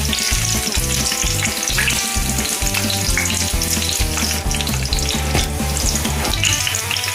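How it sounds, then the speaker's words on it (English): Dumplings frying in a small amount of oil in a pot give a loud, steady sizzle and crackle, with a repeating rhythmic clatter running through it and no voices. "Some people like to put a lot of oil in there for frying the dumpling."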